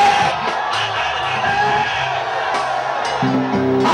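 A church congregation shouts and whoops together in a loud, sustained wave of voices, with a few louder calls standing out over organ-like tones.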